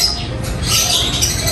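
A bird squawks loudly and harshly at close range at a bird breeder's, a short burst of raspy calls with no talking over it.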